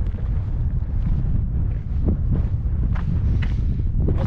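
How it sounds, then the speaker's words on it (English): Strong gusting wind buffets the microphone on a windy mountain summit at Vermont's highest point, a loud continuous rumble with a few brief swells and no talk. "It's windy up here."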